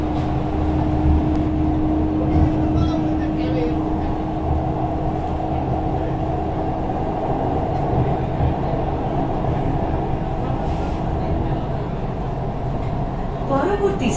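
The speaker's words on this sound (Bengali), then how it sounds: "কখনো ভাবতে পারিনি যে নদীর তলা দিয়ে ট্রেন যাচ্ছে।" A Howrah metro train rumbles steadily through the tunnel under the river, with a constant low roar and a sustained tone heard from inside the carriage, and passengers chatting over the noise.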